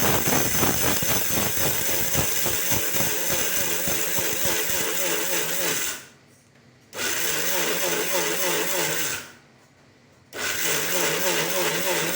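A kitchen mixer grinder whirs loudly as it grinds dry spices and red chillies for idli podi, running in three bursts separated by two short pauses of near silence.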